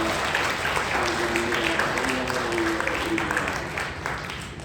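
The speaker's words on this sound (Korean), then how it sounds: "하나님께 감사와 찬송과 영광의 박수를 올려드리겠습니다." A church congregation claps together in sustained, dense applause that fills the room at an even level and eases off slightly toward the end, while a tonal hum from the hall runs underneath.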